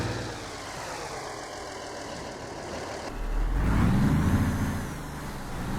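A truck engine in the driving game Alaskan Road Truckers drones steadily, a low rumbling hum that swells louder partway through as it revs, with a faint whine above it and no talk.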